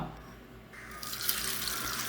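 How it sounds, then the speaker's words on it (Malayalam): Water pours steadily into a clay cooking pot, a loud, close splashing rush that starts after a brief quiet moment and continues without any talk. "വേവാൻ വേണ്ട വെള്ളം ഒഴിക്കാം"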